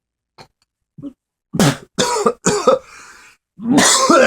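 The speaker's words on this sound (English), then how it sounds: "I actually did have to cough there" A few harsh, loud coughs in quick succession, followed by a raspy throat clearing after a short pause, close to the listener.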